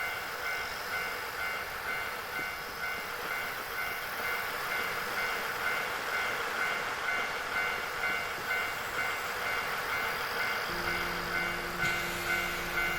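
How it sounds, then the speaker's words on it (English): A railway crossing and a train rumble steadily in the video game Nostalgic Train, with a continuous rolling drone and tonal ringing, and a brief change in tone near the end. "The sound of the railway crossing."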